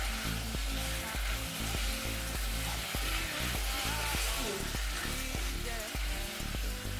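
Tomato paste fries and is stirred in a pan, a bright continuous sizzle that runs for several seconds alongside rhythmic background music.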